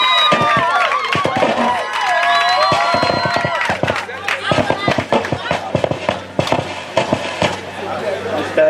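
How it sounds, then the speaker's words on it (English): Audience at a university inter-hall sports competition opening ceremony claps in a dense burst of irregular sharp hand claps under crowd murmur and cheering, with talking voices at the start. "Please let us clap for him."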